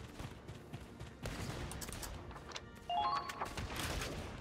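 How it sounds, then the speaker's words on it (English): Gunfire in the video game Valkyria Chronicles 4, a dense, sustained fusillade of game shots under battle noise, getting louder near the end. "They're firing on us."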